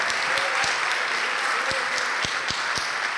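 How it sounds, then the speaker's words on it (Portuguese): A church congregation applauding together: dense, steady applause fills the space, with a few sharper individual claps standing out, no voices. "Vamos aplaudir mais ao nome de Jesus."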